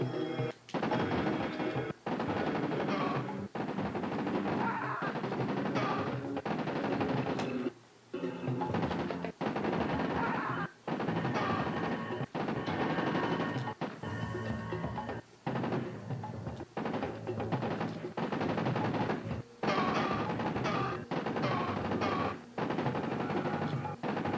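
Continuous heavy automatic gunfire in the Sega 32X CD shooter Corpse Killer, loud and relentless with short pauses between long bursts.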